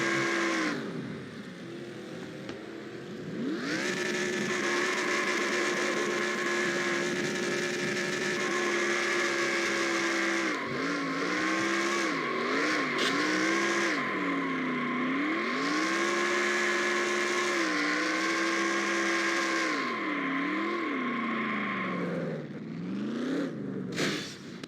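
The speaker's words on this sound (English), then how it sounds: "I think you have to go into grass here on the track too to do the burnouts too" A stock car engine in NASCAR Racing 2003 at Memphis drones loudly and steadily through a burnout, its pitch swinging up and down in repeated revs before easing off at the end.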